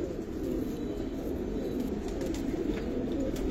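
Giribaz pigeons, a pair with a black-necked silver hen, make a steady, low, murmuring coo. The calls blend into a continuous near hum with no talk over them.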